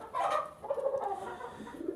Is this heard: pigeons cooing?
yes